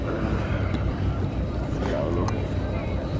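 Steady rumble of a large catamaran under way at Puerto Mogan, Gran Canaria, with engine drone, water wash and wind buffeting the microphone throughout, loud and continuous.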